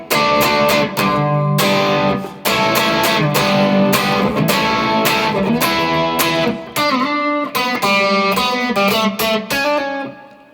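Distorted electric guitar strums the chorus of Blur's There's No Other Way, with dense, loud chords driven in a steady rhythm through an effects unit and a few short breaks between phrases.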